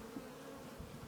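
Honey bees buzz around queen bee cages, a faint, close, continuous hum with no voices.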